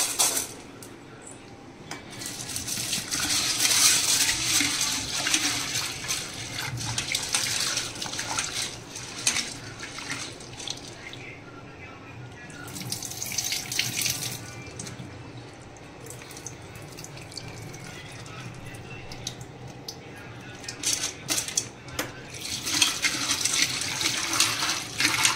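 Water runs and swishes in a bowl as one cup of sago pearls is washed for khichdi. Splashing and rinsing come in uneven bursts, with no talk.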